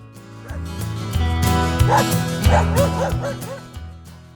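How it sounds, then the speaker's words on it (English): A dog barks repeatedly in quick bursts, with some yipping and whimpering, fairly close and loud against a low hum, at a cemetery in Smithville, Mississippi. "I apologize for this dog. It barked at me the entire time I was here."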